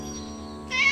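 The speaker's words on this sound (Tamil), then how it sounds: "அங்க பாரு, ஒரு பூனை வருது." A cartoon cat gives a single drawn-out meow, loud and close, rising into a bright strained cry at the end over a steady tonal background.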